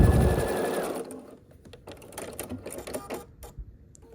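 A sewing machine stitches fabric rectangles together along a long edge for a scrappy sampler quilt block, running in a loud close burst at first, then slowing into softer, irregular stitching and handling sounds.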